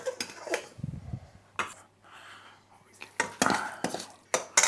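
A utensil clinks and scrapes against a bowl while garlic and olive oil are stirred, in irregular close knocks and rattles with short pauses, and a voice speaks briefly.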